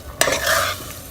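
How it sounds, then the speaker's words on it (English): A spoon stirs soaked toor dal with water, paprika, coriander and cumin powder in a pot, giving one short scrape with a light sizzle, close by. "Give it a good stir."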